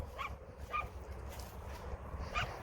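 Dogs from the neighborhood bark and yip a few times during a walk, the short sharp calls spaced apart and fairly faint over a low rumbling background.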